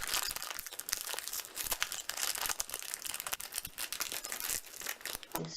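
A plastic package from a Popin Cookin DIY candy kit is handled and torn open, giving close, rapid crinkling and crackling at low volume with no talking.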